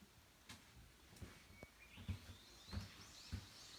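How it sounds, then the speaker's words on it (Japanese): Birds chirp and sing outside a window on a hot, sunny day, their calls faint and distant in a series of short bursts, with a few soft low thumps close by. "鳥の鳴き声が聞こえます。"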